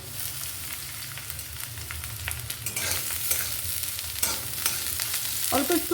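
Eggplant pieces sizzle in oil throughout, with occasional stirring scrapes and a bright clink near the end; a voice briefly speaks.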